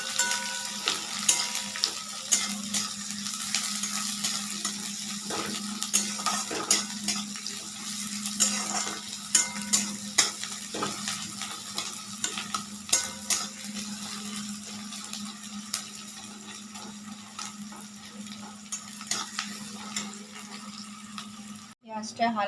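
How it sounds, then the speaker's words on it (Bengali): Onions stirred and fried in a pan for a yogurt chicken dish, a steady low sizzle with frequent scraping strokes of a spatula and a constant hum beneath, ending in a sharp clatter. "পেঁয়াজগুলো নাড়াচাড়া করে একটু ভেজে নেব।"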